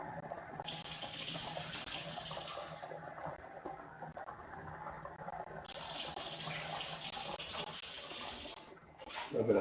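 A kitchen tap runs while rice is being cooked, a steady stream of water that hisses and splashes into a sink in two long gushes with a brief pause between them, with faint sounds in the background.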